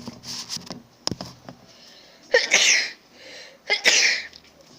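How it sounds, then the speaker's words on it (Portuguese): Two loud human sneezes, one near 2.4 seconds and another near 3.8 seconds, each a sharp burst with a breathy tail, set against quieter scattered rustling and brief clicks. "Gente, era muito chato espirrar em vídeo, mano."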